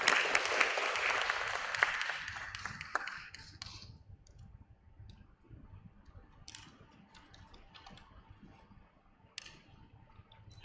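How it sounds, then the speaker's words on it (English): A crowd bursts into loud applause at MapmyIndia's stock exchange listing ceremony at BSE, filling the hall for a few seconds before fading away, followed by scattered faint clicks in a quiet room. "Let's have a huge round of applause for him"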